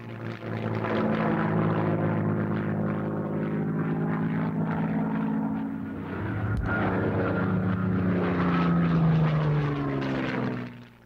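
WWII RAF Hawker Hurricane fighter with its propeller engine running, a loud, steady droning roar with a deep buzzing hum that holds throughout and swells slightly near the end.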